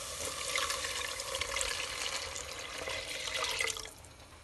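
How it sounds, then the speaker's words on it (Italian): Water is poured into a pot of tomato sauce, a continuous close splashing, gurgling stream running for about four seconds before easing off, with no voices. "E adesso vado a aggiungere l'acqua."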